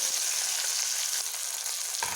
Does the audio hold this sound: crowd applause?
no